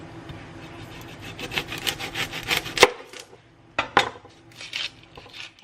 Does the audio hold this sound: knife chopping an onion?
yes